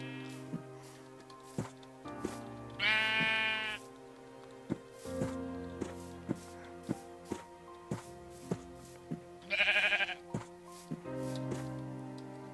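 Sheep bleating twice in the Minecraft video game, each a short wavering cry, amid evenly spaced tapping footsteps and game sounds, with someone talking over it.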